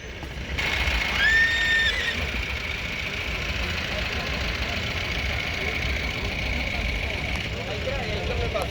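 A horse whinnies loudly near the start, with a few high neighs from black and white horses and mares over a steady outdoor crowd murmur and engine rumble at the Maghi livestock fair in Sri Muktsar Sahib.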